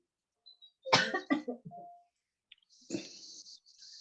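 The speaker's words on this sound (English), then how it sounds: "Sorry, I'm just coughing." A person coughs several times in a quick, close cluster, followed by a softer throat-clearing rasp after a short pause.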